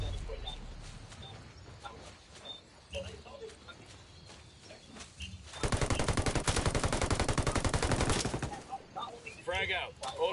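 Automatic gunfire in Ghost Recon Wildlands, a loud rapid burst of shots lasting a few seconds after scattered quieter shots and rustling, with voices talking in the background.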